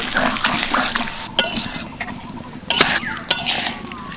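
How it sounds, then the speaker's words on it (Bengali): Boiled pasta being stirred with liquid milk and a little water in a pan for chicken white sauce pasta, with a utensil scraping and clinking against the metal in repeated strokes and a soft wet sloshing close by. "এবার আমি দিয়ে দেবো সিদ্ধ করে রাখা পাস্তা কিছুটা লিকুইড দুধ তার সাথে অল্প একটু জল ভালো করে মিশিয়ে নেব"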